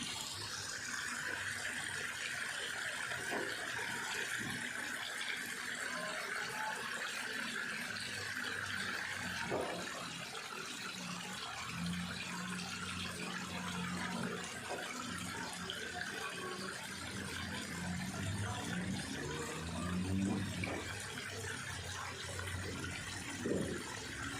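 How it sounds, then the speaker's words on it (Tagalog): Strong, steady flow of clear spring water coming up from a well, a continuous loud gushing rush that holds for the whole stretch, with faint background noises underneath. "Lakas ng agos ng tubig"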